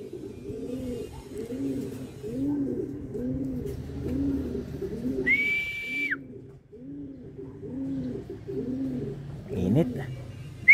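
Racing pigeons cooing in a repeating rhythmic series, close and steady, as birds return during training; a brief whistle-like tone cuts in midway.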